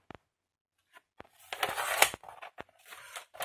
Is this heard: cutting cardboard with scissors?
yes